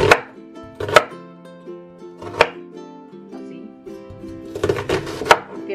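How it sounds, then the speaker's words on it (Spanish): Two onions being cut into fairly large pieces with a knife for shrimp and chicken chow mein, giving a series of crisp, irregular chops on a board, close and loud, over soft background music. "ahorita vamos a cortar dos cebollas"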